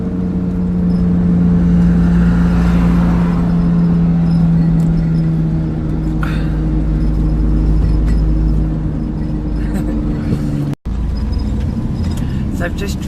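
A car cruising through the Scottish Highlands on the way from Glencoe toward Skye, heard from inside as a loud, steady low engine and road drone with a brief cut near the end.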